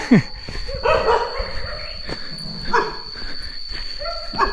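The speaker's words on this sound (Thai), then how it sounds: "ขบวนนี้หมาเยอะนะครับก็ อาจจะมีเห่าบ้างก็ไม่ต้องกลัวนะครับ" Several dogs bark, yip and whimper along a path to a Thai cave temple, with sharp irregular barks at varying distances over quiet outdoor background.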